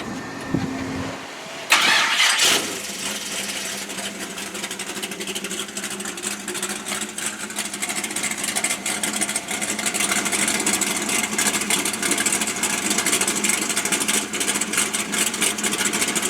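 A 650-horsepower 496 big block Chevy engine in a car fires up after a brief crank, then settles into a loud, steady, lumpy idle that carries on alone at high altitude.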